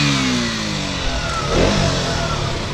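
A KTM Duke 125 motorcycle engine revs up and back down close by, its throaty exhaust rising into a brief surge before settling.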